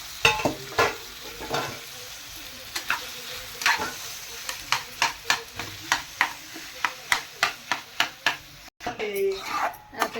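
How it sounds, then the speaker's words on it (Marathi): A spoon scrapes and stirs a potato vegetable mixture sautéing in a pan, giving a regular series of sharp metallic clinks over a soft, steady sizzle, close up, with a brief shuffle near the end. "आता ते परतून घेऊ आणि आता त्याच्यात बटाटा टाकू आणि चांगला मिक्स करून घेऊ"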